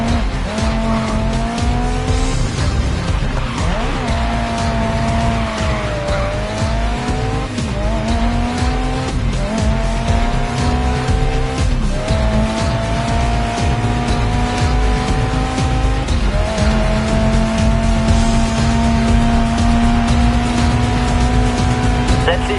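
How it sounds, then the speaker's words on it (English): A race car in the racing game Grid slides through a corner on a touch of handbrake, its engine droning and rising in pitch through repeated gear changes while the tires squeal loudly and continuously. "Try a corner with a touch of handbrake."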